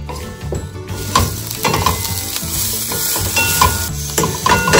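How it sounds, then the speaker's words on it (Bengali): Food frying lightly in a little ghee with salt and turmeric, giving a close, continuous sizzle with stirring scrapes throughout, no talking. "অল্প একটু ঘিতে হালকা ভাজা ভাজা করব"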